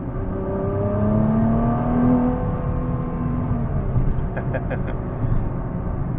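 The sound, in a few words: 2023 Nissan GT-R engine revving on quick paddle-shift downshifts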